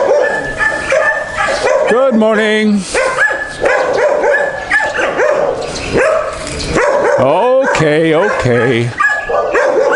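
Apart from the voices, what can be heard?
dogs barking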